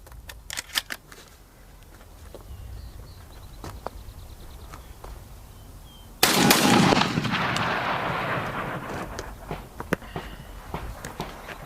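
Two 3-inch shotgun shells fired from a Beretta A400 Extreme Unico: a faint pop early, then one loud, sharp blast whose echo rolls on and decays across several seconds outdoors.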